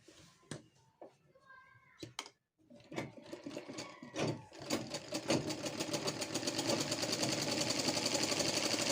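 A sewing machine stitches chequered kurti fabric. A few scattered clicks and handling knocks come first, then the motor starts and builds into a close, fast, rhythmic stitching hum.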